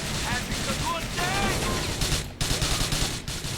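Gunfire in the video game GTA 4: a rapid burst of repeated shots near the end, loud and close, with game sounds and a voice talking over the earlier part.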